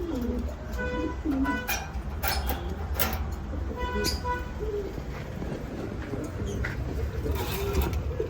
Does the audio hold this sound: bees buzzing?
no